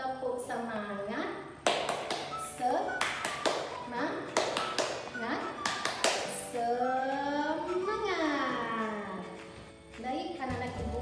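A class of children doing the "tepuk semangat" cheer, sharp bursts of rhythmic group clapping in patterned sets between chanted, sung-style voices, fairly close and lively.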